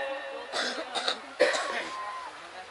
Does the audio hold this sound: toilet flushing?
no